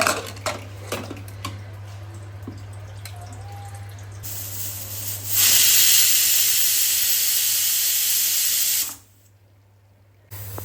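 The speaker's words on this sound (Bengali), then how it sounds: "পাঁচটা সিটি হয়ে গেছে" Pressure cooker of mutton curry steaming on the stove, a steady low hum giving way to a loud sustained hissing whistle that cuts off abruptly, with faint kitchen clatter beforehand.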